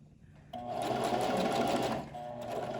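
A sewing machine runs in a steady close burst, stitching a hair-tie elastic onto the corner of a fabric sheet mask, then slows briefly and continues at a quieter pace.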